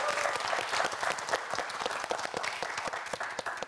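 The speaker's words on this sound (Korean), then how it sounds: "멋진 도전을 보여준 이성빈 학생에게 큰 박수 부탁드립니다" Studio audience at a televised student quiz show claps for a contestant, a moderately quiet, dense patter of hands with a few sharper claps, no voices over it.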